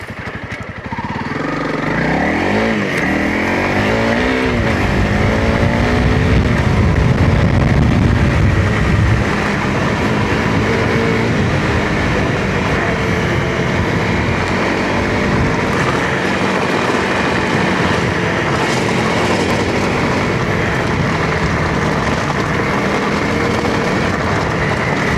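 Motorcycle riding down gravel forest road FSR 143 toward a lake camping spot, engine droning loud and steady throughout, revving up early on, with wind and tire rumble over rocky ground.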